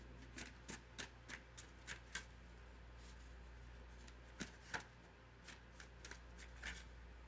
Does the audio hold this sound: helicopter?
no